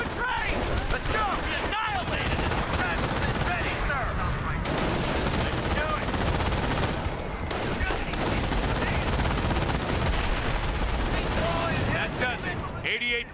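Continuous heavy gunfire in a Company of Heroes D-Day beach landing battle: a dense machine-gun and rifle fusillade with booming blasts, loud and unbroken for the whole stretch, with game voices calling out under it.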